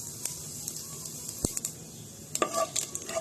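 Whole spices (bay leaves, cracked cardamom, cinnamon and cumin seeds) sizzle in hot oil for biryani, with a soft steady hiss broken by sharp pops, clinks and stirring scrapes close by.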